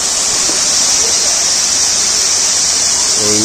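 The main falls at Courtallam pour with reduced flow in a loud, steady, close roar of rushing water that fills the whole clip, with a faint voice briefly at the end.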